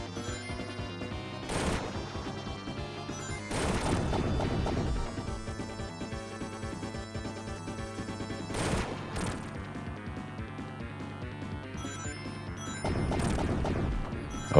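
Sonic smashes into rocks in a video game: sharp crashing bursts land at about 1.5, 3.5, 8.7 and 13 seconds over steady game music.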